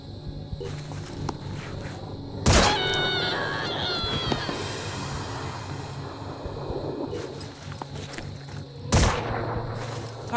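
Weapon fire in the Phoenix Point strategy game: two sharp, loud shots several seconds apart, each with a ringing metallic tail, set over a busy low background of clatter and movement.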